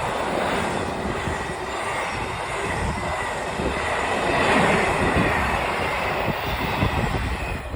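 A long freight train rolls past close by on the line near Acklington, giving a steady, loud rumble of wheels and wagons that swells slightly midway and carries on throughout.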